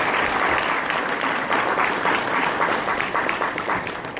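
An audience at a morning talk at a history center gives BJ Glover a warm welcome with sustained applause, a dense and steady clapping that stays fairly loud throughout.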